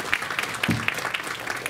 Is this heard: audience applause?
yes